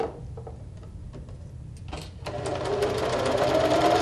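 A sewing machine begins stitching a half inch seam, starting with a few soft clicks and then settling into a steady, fast whirring run up close.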